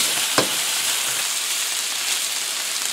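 Meatballs browning in a hot pan sizzle in a loud, continuous hiss, with a short clatter early on as they are rolled around.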